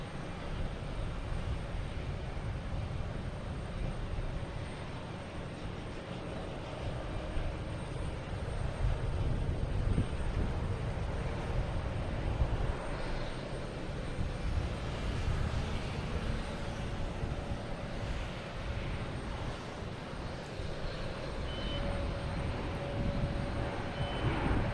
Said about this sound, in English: The Cape Airs is taking off on 4 right and 4 left